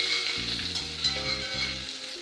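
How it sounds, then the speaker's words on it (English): Butter and flour sauce for baked macaroni and cheese is whisked in a pan, giving a soft, continuous sizzle with faint whisk movement in a short, moderately quiet stretch. "You must whisk it."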